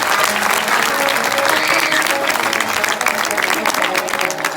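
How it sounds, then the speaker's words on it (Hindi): Audience applause at a live Chhattisgarhi comedy Ramayan stage show, dense steady clapping sustained throughout with crowd noise mixed in. "एक बार जोरदार ताली बजा"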